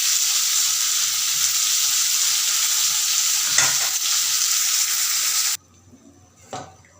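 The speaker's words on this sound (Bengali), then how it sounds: "পেঁয়াজ রসুন জিরে আর লঙ্কা দিয়েছি, ভাজা হয়ে গেছে।" Onion, garlic, cumin and chili sizzle steadily in hot oil for a Nepali hill-greens dish, a loud continuous frying hiss with occasional stirring scrapes, then it cuts abruptly to near-quiet with a single clatter.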